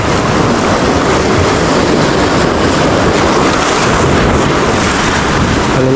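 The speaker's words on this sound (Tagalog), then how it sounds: "Malalaki ang alon pa rin dito mga master." Big sea waves breaking along the shore where someone is fishing, a loud continuous roar of surf mixed with wind buffeting the microphone.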